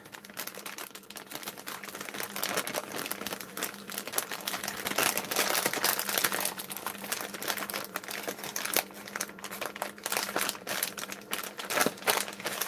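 Paper bag toppers made from card stock are folded and creased, giving a dense, continuous run of close, crisp crinkling and rustling.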